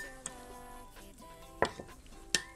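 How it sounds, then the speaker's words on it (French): A spoon stirs espresso with stevia and amaretto in a small bowl, giving faint scraping and a few sharp clinks against the dish at irregular intervals, close by and quiet, with no talking. "On mélange."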